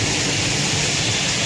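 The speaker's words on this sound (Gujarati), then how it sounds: "વરસાદ બહુ છે આજે બાપુનગરમાં" Heavy rain pours steadily in Bapunagar, Ahmedabad, a dense, continuous hiss with no break across the short stretch and no voices.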